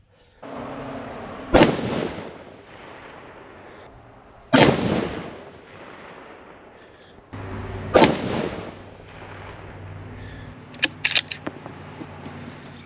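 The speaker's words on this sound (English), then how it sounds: "now we're going to shoot this Precision Hunter" Three loud, sharp rifle shots from Hornady Precision Hunter 103 grain ELD-X ammunition ring out about three seconds apart, each with a short decaying echo, followed by a few faint metallic clinks.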